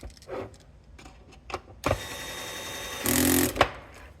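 Electric screw machine driving screws into an enclosure on an assembly rig, two sharp motorized whirring bursts separated by handling clicks and taps, close and alone without talk.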